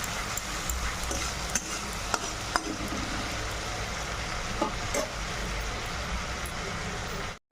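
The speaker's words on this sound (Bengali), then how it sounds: "এবং মশলাটাকে আমি কষিয়ে নেব ভালো করে।" Spice paste of Kashmiri chilli powder and a splash of water stir-fries in a pan for a potato and egg chorchori, a constant close sizzle with scraping stirs, cutting off abruptly at the end.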